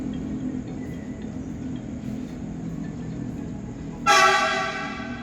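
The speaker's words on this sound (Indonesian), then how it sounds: "Klaksonnya udah kedengaran ya teman-teman." Horn of a new CRRC SFC120-V KRL commuter train on its first run on the Cikarang Line, a loud tonal blast starting near the end over steady rumbling train ambience.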